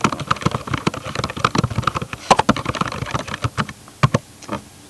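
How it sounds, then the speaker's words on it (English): Typing on a computer keyboard: quick irregular runs of close, crisp key clicks with brief pauses, thinning toward the end, no talk. "I'm going to type it since it's easier."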